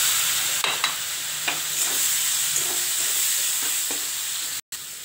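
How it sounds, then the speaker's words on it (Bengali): Mushrooms tipped into a pan of frying curry masala with yogurt, giving a steady close sizzle broken by several scraping stirs and soft clatters, with no talking. "এবার মাশরুমটা দিয়ে দিচ্ছি।"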